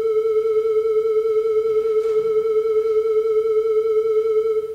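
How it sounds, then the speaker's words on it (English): Electronically generated triangle wave held on one steady pitch with a 70-cent vibrato, the pitch swaying evenly up and down, a loud continuous tone with no talk. "Here's a recording of a electronically generated triangle wave"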